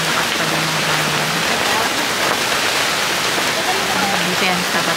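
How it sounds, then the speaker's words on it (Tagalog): Strong, stormy wind sweeps across a beach campsite in Calatagan, Batangas, a loud, continuous roaring rush with a voice talking underneath it. "tinan nyo naman sobrang lakas talaga ng hangin"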